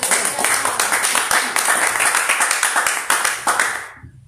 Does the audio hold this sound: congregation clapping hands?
yes